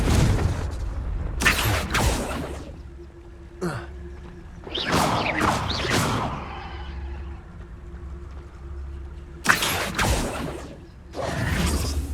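Confringo fire spell blasts in the Hogwarts Legacy video game: several loud whooshing bursts with booming impacts, spaced out over a low droning ambience, with no talking.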